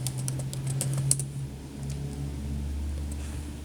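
Rapid clattering of computer keyboard keys as a search query on atopic dermatitis and dupilumab systematic reviews is typed, with irregular close clicks over a steady low hum and no talking.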